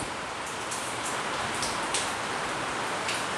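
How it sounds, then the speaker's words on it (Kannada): Heavy rain falls steadily on a house during a power cut, a dense, even hiss with scattered sharper drop taps, loud and continuous throughout with no voices. "Heavy rain friends."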